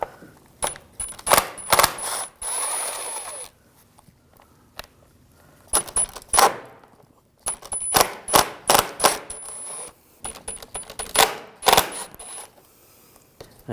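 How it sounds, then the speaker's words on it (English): A T20 socket ratchet removes screws from a panel on a 2006-2009 Audi with the 4.2L V8, giving bursts of rapid, close metallic clicking separated by short pauses. "Take those out, use a T20 socket."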